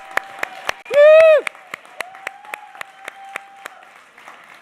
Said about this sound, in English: let's give a big round of applause to these 5 people.